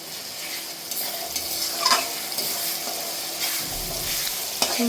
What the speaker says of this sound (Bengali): এখন এখানে আমি একটু রসুন অ্যাড করে দিব